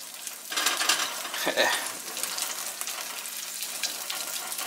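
Sausages frying in a pan give a steady, moderate sizzle and crackle that keeps going throughout, with a brief clink near the middle.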